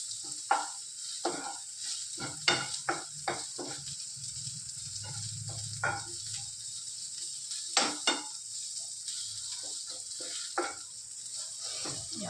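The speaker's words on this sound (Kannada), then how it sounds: "ಸ್ವಲ್ಪ ಫ್ರೈ ಆಗಬೇಕು." Prawns frying in a little oil in a pan while a chilli dish is made at home, a steady sizzle broken by irregular stirring scrapes and clinks of utensil on pan, close and clear with no talking.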